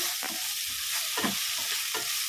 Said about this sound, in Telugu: మనం చికెన్ మిక్స్ చేసుకోవాలి అంతా కలిపి అంతా కలుసుకోవాలి